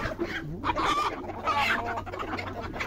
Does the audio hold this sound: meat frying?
no